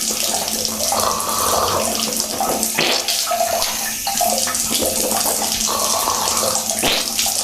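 Water pours from a tap during ablution, a loud steady splashing stream with uneven gurgles and handfuls being scooped and spilled, no talk.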